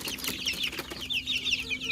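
Rapid high-pitched peeping of 21-day-old hill chicken chicks, many overlapping chirps close by over a low steady hum.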